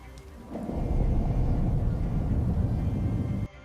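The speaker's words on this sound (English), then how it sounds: "Rain leaks through holes in the ceiling." A steady low rumble of thunder rolls beneath a constant wash of rain, loud and sustained before cutting off abruptly near the end.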